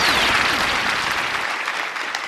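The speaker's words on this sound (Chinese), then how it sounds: "热烈的掌声送给三位老板" A television studio audience applauds for three bosses on a job-hunting show, a dense, continuous burst of clapping that slowly tapers over a couple of seconds.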